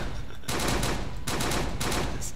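Rapid automatic gunfire from the video game Uberstrike on the Gideons Tower map, loud bursts of shots in three sustained volleys separated by short pauses.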